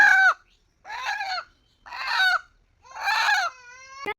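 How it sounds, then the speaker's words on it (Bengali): A domestic chicken gives four short, loud, close clucking calls with even pauses between them, the last one longer and more drawn out, followed by a sharp click, with no talk. "আমার পোষা মুরগি"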